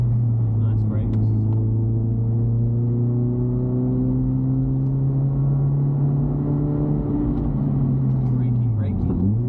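A Honda CR-Z with newly fitted 300mm front brake rotors drives along a cliffside road, its engine droning steadily and rising in pitch before dropping at a gear change near the end, heard from inside with someone talking over it.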